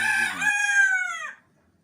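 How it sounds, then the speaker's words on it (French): A rooster in a backyard henhouse gives one loud, close crow that rises, holds and trails off, lasting just over a second before silence. "Voilà le coq en pleine action."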